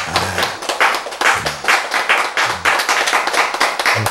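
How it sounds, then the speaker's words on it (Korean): An audience in a church lecture claps in a loud, brisk round of hand claps that rises and falls in short waves, with no speech over it. "자, 이제 박수가 나와야지."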